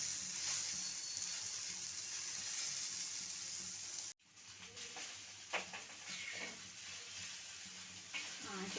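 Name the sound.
okra (bhindi) frying on high flame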